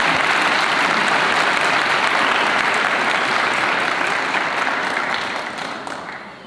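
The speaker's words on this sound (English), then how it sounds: "I'd like to give him a round of applause too and thank him for all that he does" A ceremony crowd at a Bridgeport fire graduation applauds Senator Richard Blumenthal with loud, dense clapping that holds steady and then fades over the last couple of seconds.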